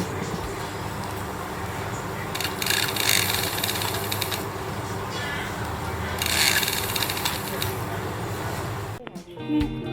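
Sewing machine stitching at a repair stall outside Warorot Market in Chiang Mai, a steady mechanical whir with rhythmic clatter amid market bustle, while people talk nearby.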